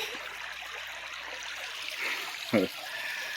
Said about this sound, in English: I'm sitting there next to the creek.